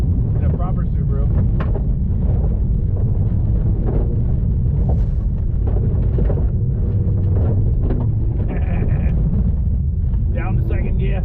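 Subaru STI rally car fitted with Bilstein King suspension, driven hard through a figure-eight and over crests, engine roaring loud and continuous with wind buffeting throughout.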